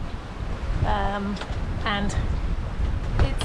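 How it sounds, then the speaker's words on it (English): Strong wind buffets the microphone aboard a sailboat in swelly open Atlantic water on a crossing, a constant roar with wave wash underneath while a person briefly speaks. "pretty windy, it's very swelly"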